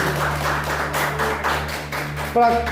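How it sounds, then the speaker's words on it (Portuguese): A church congregation claps rhythmically, a steady patter of many hands under a preacher's voice, with a brief louder tonal swell near the end. "Palmas para Jesus."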